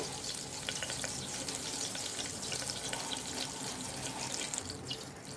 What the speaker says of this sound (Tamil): இதெல்லாமே நல்லா மணம் வர அளவுக்கு நல்லா வறுத்துக்கலாம்